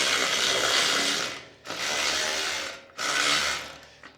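A ratchet wrench working at a stripped nut inside a trailer tail light, three long, loud runs of rapid clicking close to the ear, separated by brief pauses.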